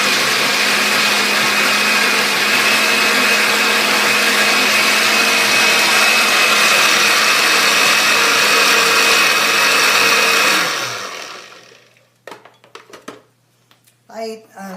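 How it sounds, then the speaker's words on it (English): A food processor grinds chickpeas for homemade hummus with a loud, steady motor whir for about ten seconds, then spins down into a few faint clicks and knocks. "I actually don't grind it to a very fine paste, but you can continue to grind some more."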